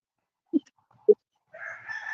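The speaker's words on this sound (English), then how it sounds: "That's a big old rooster." A big rooster gives short clucks followed by the start of a crow, near and fairly loud against a quiet background, with no talk.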